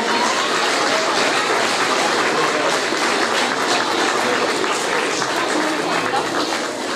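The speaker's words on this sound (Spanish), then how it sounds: "Un fuerte aplauso." Sustained applause fills a school ceremony honouring retiring teachers, a loud, even wash of many hands clapping that continues for several seconds, with voices faintly mixed in.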